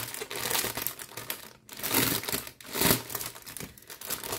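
Plastic packaging of an embroidery kit being torn open and crinkled, with bursts of crackling and rustling in two or three waves separated by short pauses, close and moderately loud, no talking.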